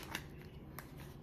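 A deck of tarot cards is shuffled in a brief, faint riffle, quiet and close, with a couple of soft snaps and no voices.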